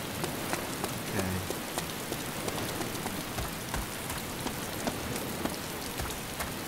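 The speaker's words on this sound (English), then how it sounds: "I can't make it out in the rain" Rain falls in the video game Arma 2 DayZ, a steady dense hiss of drops striking surfaces with scattered sharper patters, even and continuous throughout with no voices.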